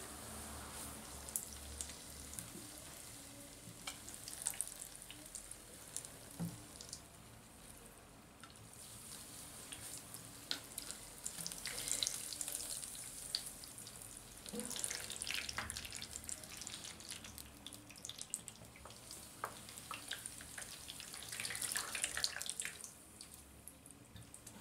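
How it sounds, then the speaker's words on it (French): Coca-Cola is poured over hair and splashes into a basin, giving a faint, prolonged fizzing and dripping with trickles that swell and fade. "Et je veux verser le coca"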